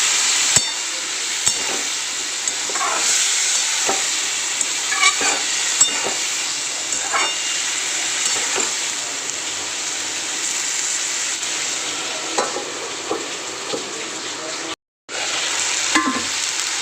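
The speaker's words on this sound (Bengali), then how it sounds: "আর অল্প একটু জল দিচ্ছি কষানোর জন্য।" A masala of spices with ground cumin sizzles steadily in a pan after a splash of water, with close, regular stirring scrapes over a continuous hiss and a short pause near the end.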